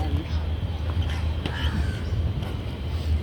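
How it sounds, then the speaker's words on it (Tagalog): Large birds caw harshly in short bursts at a marina's south pier while waiting for food, sounding at a moderate distance over steady low background rumble, with people talking nearby. "Yung ibon ang ingay, ang laki. Naghihintay ng pagkain."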